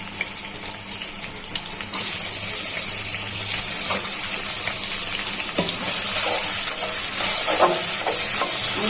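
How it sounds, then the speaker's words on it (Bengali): Chopped onions hit hot oil in a heated kadai and set off a loud, continuous hissing sizzle that swells slightly partway through, with no one speaking. "পেঁয়াজ কুচিগুলো দিয়ে দিচ্ছি।"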